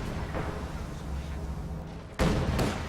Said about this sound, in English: Katyushka barrage is just littering this part of the map